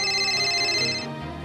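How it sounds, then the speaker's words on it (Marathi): A phone ringtone plays a repeating electronic tone for about a second before cutting off, fairly close and clear with no talking. "ही आता कशापायी फोन करते आहे?"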